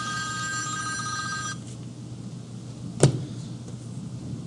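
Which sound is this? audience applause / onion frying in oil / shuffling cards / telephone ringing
telephone ringing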